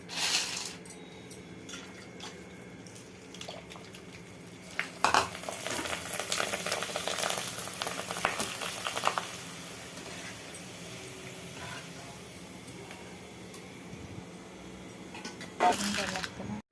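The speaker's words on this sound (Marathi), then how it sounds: "पुऱ्या तळलेलं तेल आहे त्यामुळे आपण पापड भाजून घेऊया." Papad frying in oil left over from frying puris, a continuous low sizzle with occasional stirring clinks, moderately close, with a few louder bursts near the middle and end.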